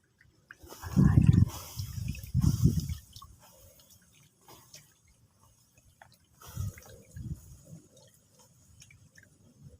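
Water splashes onto an outdoor cooking fire to douse it, giving two short hissing, sputtering bursts close by, then a quieter pair of splashes after a pause, with faint dripping between.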